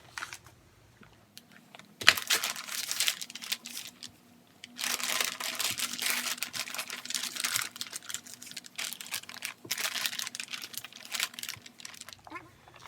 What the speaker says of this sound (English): Now I'm going to start trying to wet form it down on top of this mold here.